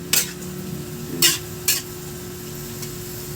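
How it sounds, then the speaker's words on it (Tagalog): Chopsuey cooks in a pan while a utensil stirs it, with a few sharp scraping strokes over a low, steady sizzle, close by and with no voices. "Haluin natin ang ating chapsoy."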